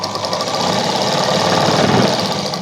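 A sewing machine stitches only the lining of a baby frock, its fast steady motor whir running continuously and fairly loud throughout, with no voices.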